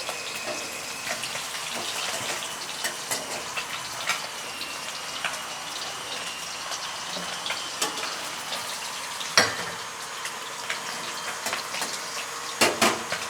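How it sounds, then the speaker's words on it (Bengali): Nigella seeds and chopped garlic crackle in hot oil as the tempering for a pumpkin dish, giving a steady, soft sizzle with scattered sharp pops and a few louder spits near the end. "এই কুমড়োর ইসেতে আমি শুধু কালো জিরে ফোড়ন দিচ্ছি"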